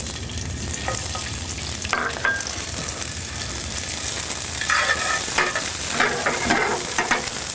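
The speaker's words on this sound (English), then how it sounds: "We're going to begin by sauteing some onions." Onions sauteing in a pan for a buffalo steak sandwich: a steady close sizzle with intermittent scraping and stirring clatter from a utensil, no voices.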